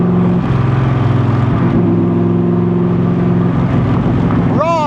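Backdraft Racing roadster in Ferrari Avio Blue with a 427 engine, a loud close engine holding a steady growl and then revving up sharply at the end, with a voice talking over it.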